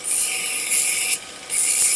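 Copper vise jaw edges are hand filed, making bright, rasping strokes close by, with two long passes separated by a brief pause.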